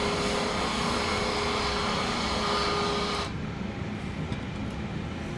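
Airbus A321neo taxiing in a Flight Simulator 2024 game at Munich in cold weather, heard as a steady loud engine and airflow hum that drops to a quieter, thinner rumble partway through.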